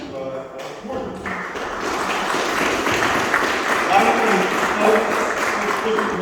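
An audience at a 2021 mayoral candidates' forum claps in a dense, steady round of applause that swells and holds, with a voice speaking over it.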